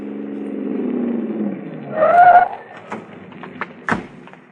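A car chase effect from a radio detective drama: a steady engine drone gives way to a brief surging rev, followed by scattered thumps and a sharp knock, fairly close and with no voices over it.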